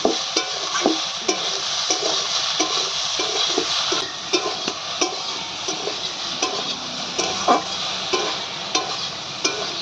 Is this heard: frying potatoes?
yes